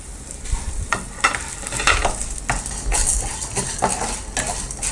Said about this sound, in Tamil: பூண்டு கொஞ்சம் நல்லா வதக்கிக்கலாம்.